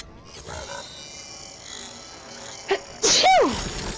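A single sharp sneeze bursts out near the end, preceded by a small catch of breath, over quiet Fortnite squad gameplay sounds and a low background hum.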